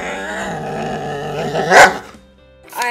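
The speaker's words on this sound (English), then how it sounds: "He's a smart dog, though he does bite." A dog growls and barks up close, with a low rumbling snarl building into a loud bark burst, then a short pause before another sharp bark at the end; no talking.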